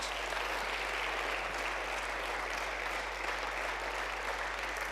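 A church congregation applauds during a Sunday service, a steady, uninterrupted wash of clapping from a large indoor crowd, even in level and fairly distant, with a low steady hum underneath.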